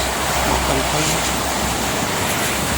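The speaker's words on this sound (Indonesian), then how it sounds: "Harap hati-hati nih, hujannya tambah deras." Heavy rain pours on the Jakarta–Cikampek toll road, a loud, steady broadband roar with constant wash and low rumble from traffic or wind, unbroken throughout with no clear talk.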